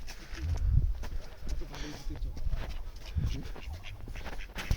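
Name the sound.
ducks quacking at Aritar lake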